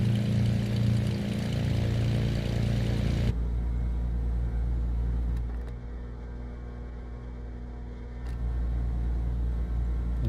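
In Microsoft Flight Simulator 2024, a Black Square Bonanza's piston engine idles at 1200 RPM with a steady low drone, dropping to a lower hum partway through.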